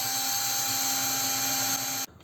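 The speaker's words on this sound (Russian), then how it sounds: "беру и сразу сверлю отверстие" A power drill bores a hole in plywood with a steady, high, whining motor drone held for about two seconds, loud and close, then it cuts off abruptly, with no talking.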